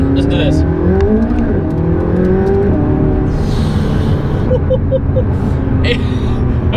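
A McLaren 675LT engine roars steadily and loudly up close, its pitch rising as it accelerates hard.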